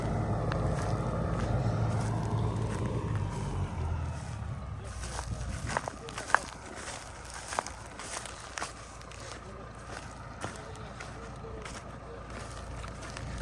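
A Massey tractor hauls an UNLU plough through a field, its engine a steady, close low drone layered with scattered crackles and clunks.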